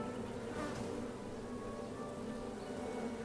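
Steady insect buzzing of bees in the King's Quest video game, a dense continuous drone holding evenly throughout without pauses or voices.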